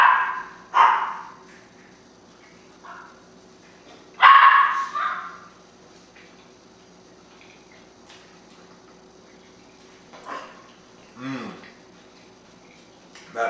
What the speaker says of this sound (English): these dogs are tripping out